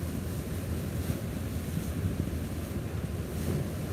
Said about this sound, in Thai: ได้ยินเสียงลมไหมครับ ลมแรงมากครับตอนนี้